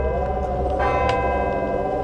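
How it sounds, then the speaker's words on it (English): Church bells chime steadily, their sustained ringing tones filling the whole stretch at a loud, even level with no talk. "hours later, the local church bells chimed."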